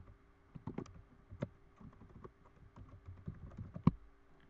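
Fingers type on a laptop keyboard, giving quiet, close, irregular clicks and taps in short bursts with small pauses between them.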